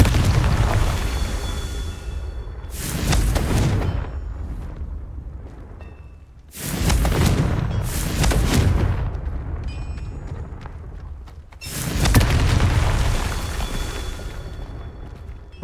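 Confringo blasting curse explosions in Hogwarts Legacy during a Merlin trial: three loud booming blasts, spaced several seconds apart, each a broad burst that rumbles and fades over a low game ambience.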